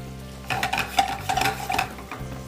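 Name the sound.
onions sauteing in a skillet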